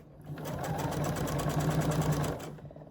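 Sewing machine running steadily while stitching an Atomic Starburst quilt project, a continuous close mechanical whir with a rapid needle hum, starting and stopping cleanly within a few seconds, no talk over it.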